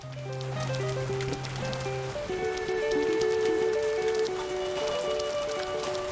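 Rain in the crafting game The Faraway Land, a steady patter of drops on surfaces running throughout beneath sustained musical tones from the game's soundtrack.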